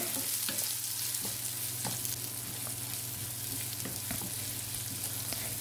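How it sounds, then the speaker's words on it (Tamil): Chopped onions and curry leaves sautéing in oil, a continuous close sizzle broken by repeated scraping stirs of a spoon against the pan at an uneven rhythm. "வெங்காயம் சேர்த்துட்டு நல்லா வதக்கி விட்டுக்கலாம் வெங்காயம் வந்து நல்லா வதங்கி வரட்டும்"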